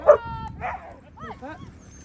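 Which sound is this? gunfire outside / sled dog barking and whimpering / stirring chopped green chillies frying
sled dog barking and whimpering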